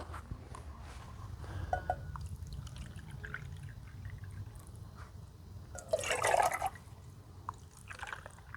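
Water poured into a camping pot at a lakeside hammock camp, a short splashing burst of about a second standing out over steady low outdoor background noise.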